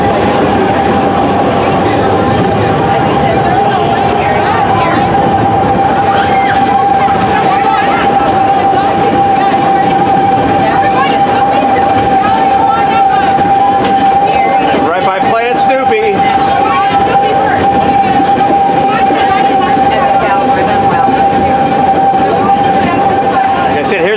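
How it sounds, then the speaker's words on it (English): An amusement park train ride at Valleyfair in Shakopee, Minnesota rumbles along its track with steady clickety-clack and a sustained tonal whine, loud and close throughout, with a brief squeal near the middle. "Always enjoy the train rides."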